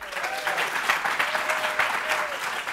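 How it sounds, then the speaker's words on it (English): Applause from a conference audience fills the room, a dense steady wash of many hands clapping at moderate distance with faint voices mixed in. "let's start out with a round of applause for Karen and Hope, who've put this together"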